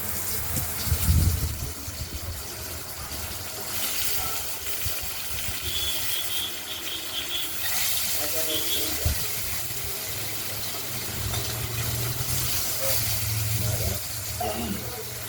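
Potatoes frying in oil tempered with cumin and nigella seeds for a katla fish curry, a continuous broad sizzling hiss with a few louder bubbling crackles and occasional utensil clinks.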